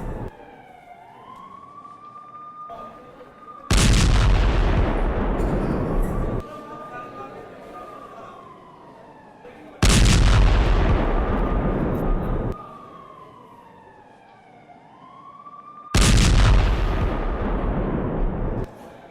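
Three loud, deep explosions go off in turn, each with a long rumbling tail, as drones are destroyed during an attack on the Kremlin in Moscow. A rising and falling wail, like an air-raid siren, sounds between the blasts.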